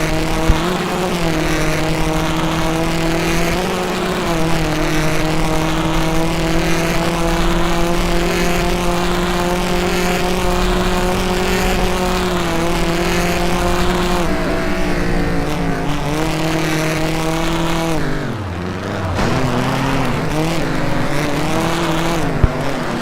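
Onboard a rallycross race car, number 81, driven by the 2012 champion at the NASA RallyCross Island Rally, the engine drones loud and steady, its pitch rising and falling with shifts, lifting off briefly near the end before pulling again.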